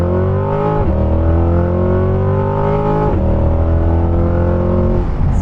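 A modified C8 Corvette engine revs hard and climbs steadily through its upper RPM range, loud and close, with two brief gear-shift dips before pulling up again.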